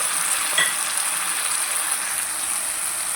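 Tomato with salt and turmeric frying in a pan, a steady close sizzle holding evenly throughout with one brief stir or clink near the start.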